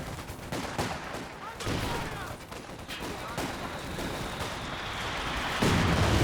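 Mortar pit firing in a Company of Heroes 2 team battle, repeated heavy thumping launches and blasts mixed with scattered gunfire, steady and moderately loud, with a voice talking over the action.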